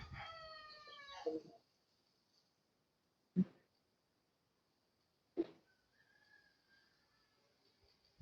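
A rooster crows loudly at the start with a rough, drawn-out call, followed by two short sharp knocks and faint bird chirps in a quiet setting.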